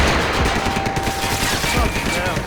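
Rapid gunfire and bursts in the video game Max Payne 3, dense and loud throughout with overlapping shots amid game noise and faint voices.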